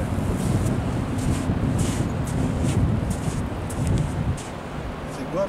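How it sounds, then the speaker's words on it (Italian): Evening wind on the beach at Renesse in Holland, a constant blustery rumble buffeting the microphone, with a person talking over it throughout. "mira il vento, sempre vento"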